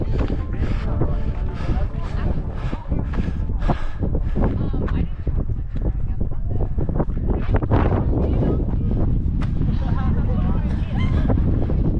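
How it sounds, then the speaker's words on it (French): Strong, gusty mountain wind at about 2,538 metres on the Tour du Mont-Blanc buffets the microphone with a constant roaring rush, loud and unbroken throughout. "Toujours du vent, 2538 mètres je crois d'altitude."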